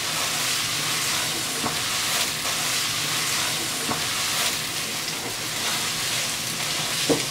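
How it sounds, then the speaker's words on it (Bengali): Rice and lentils for khichuri stirred in a pot give a continuous sizzling, frying hiss with faint scrapes and taps of the spoon at irregular intervals. "তো চাউলটা সুন্দর করে নেড়ে দিব"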